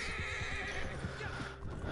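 Close, moderate whinnying from a horse in Red Dead Redemption 2 Online, with soft hoofbeats thudding beneath it over a brief stretch.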